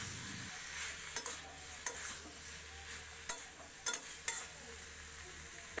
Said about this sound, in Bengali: এখন আমি পরিমাণ মতো হলুদ দেব, আর ভালো করে নাড়াচাড়া করে নেব।